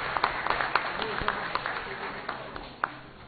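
Applause in a municipal council chamber during an ordinary session, a steady patter of moderate clapping with a few sharper claps standing out, continuing for a few seconds.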